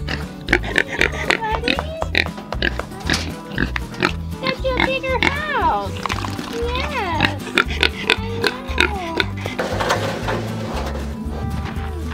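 Kunekune pigs on a farm oink and grunt repeatedly at close range, with voices talking over them and occasional knocks and bangs.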